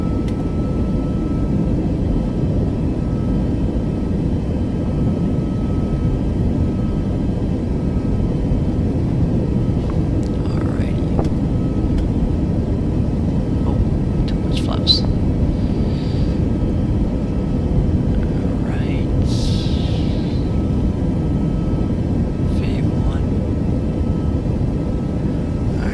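Airliner engines in a flight simulator game roar steadily at takeoff power for the whole stretch, a loud continuous drone with no talking over it.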